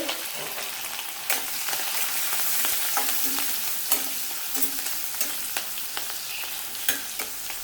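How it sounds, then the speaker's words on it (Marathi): Cumin, asafoetida, chili, garlic and curry leaves sizzle in hot oil as a tempering for a spinach and drumstick dish: a bright, steady frying hiss punctuated by regular spoon taps and stirs. "तेल गरम झालं आता ह्यामध्ये मी जिरं हिंग मिरची आणि लसूण कढीपत्ता घालते"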